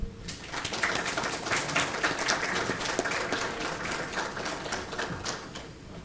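Audience applause welcoming a speaker at a medical talk, a steady, moderately loud patter of many hands clapping that continues without a break before fading slightly at the end.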